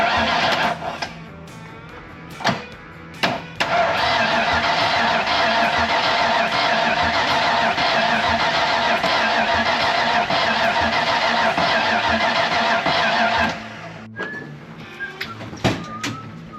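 An engine freshly fitted with new spark plugs being started, a loud, close, sustained cranking and running drone lasting about ten seconds before cutting off, framed by a few sharp clunks and handling noises.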